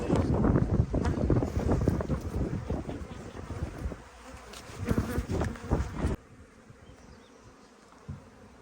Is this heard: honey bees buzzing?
yes